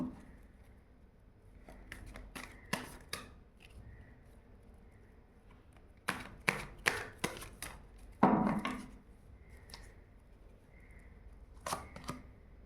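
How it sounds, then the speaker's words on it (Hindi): Tarot cards being shuffled by hand, heard as scattered clusters of quick riffling and tapping bursts, sparse and fairly quiet, with pauses between rounds and no speech. "चलिए फिर से थोड़ा सा शफल करेंगे।"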